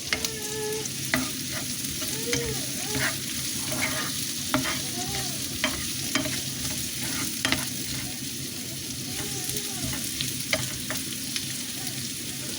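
Onions sauté in a frying pan, crackling steadily up close while a utensil stirs and taps at intervals; a few faint squeaky tones drift through the background, and nobody talks.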